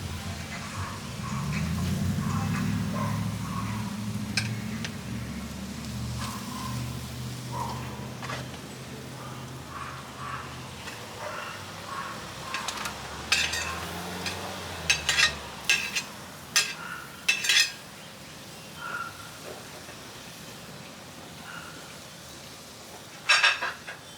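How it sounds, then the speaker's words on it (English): Shrimp sizzling on a grill alongside burgers, a low rumbling hiss with scattered pops and clinks of utensils growing more frequent later on. "watch the shrimp sizzle"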